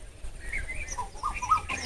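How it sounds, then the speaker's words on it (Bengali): Birds call out over open ground as a crow flies overhead with myna birds chasing it, giving a few faint, scattered chirps and squawks above a low background hum. "তো একটা কাক গেল উড়ে, দেখতে পেলে একদম মাথার উপর দিয়ে গেল।"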